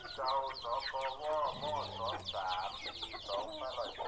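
A flock of fighting cocks clucks steadily and busily at close range while being fed rice in the morning, with a deep low hum and some voice underneath.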